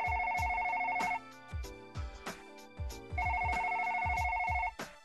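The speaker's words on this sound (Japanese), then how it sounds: "すまない、電話がかかってきた。" A telephone rings with an incoming call in a repeating electronic trill, two long ringing bursts separated by a pause, set against light background music.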